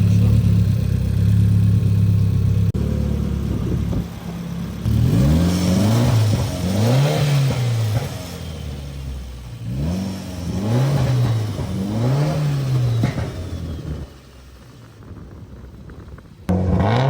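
A Mitsubishi Evo X with a big top-mount turbo kit, fully built head and E85 fuel repeatedly pulls and eases off while cruising, its engine note rising and falling in several loud acceleration sweeps with no talking.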